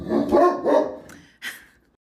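A dog barks a few times in quick succession, fairly close, with a short final yip after a brief pause.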